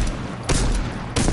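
Revolver shots in a multiplayer video game, a few sharp, loud bangs about half a second apart with a noisy tail between them.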